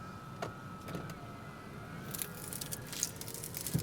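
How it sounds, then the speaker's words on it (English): Crunching and crumbling bites of a bacon, egg and cheese bagel eaten inside a car, a few sharp close crunches clustered toward the end over a low background rumble. "Hear it crumbling, crunching."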